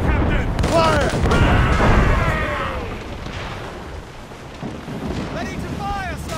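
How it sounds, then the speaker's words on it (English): Ship mortars fire in a naval battle in Assassin's Creed Rogue, heavy booming blasts rumbling under shouted crew commands and whistling projectiles, with the roar fading after a couple of seconds. "We should fire our mortars, Captain!"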